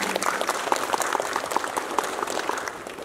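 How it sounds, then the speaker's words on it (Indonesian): Steady applause from a crowd at a graduation ceremony, dense overlapping claps continuing evenly throughout without a break. "Kita berikan tepuk tangan untuk kita bersama ya"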